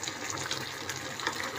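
Food bubbling in a cooking pot, a steady watery gurgle and hiss that runs without pause, close and moderately loud, with no voices over it.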